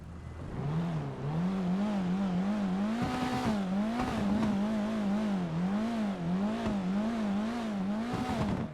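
Engine of the Vapid Retinue, a small early-90s Ford Escort style car in GTA 5 Online, droning steadily with a wavering, pulsing tone as revs rise and dip, loud and continuous throughout with no talk.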